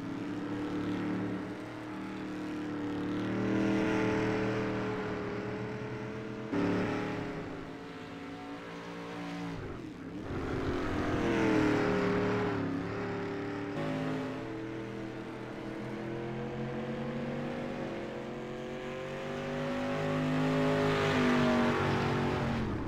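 Dirt race cars lap the half-mile Williams Grove Speedway in the iRacing simulator, engines revving and droning continuously as they rise and fall through acceleration and corners, with several cars passing at moderate volume and no talk.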